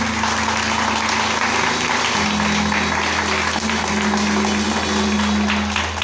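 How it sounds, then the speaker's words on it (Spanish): Steady, dense applause from a large church congregation fills the whole stretch, loud and continuous with no voices standing out. "Dale otro aplauso al Señor"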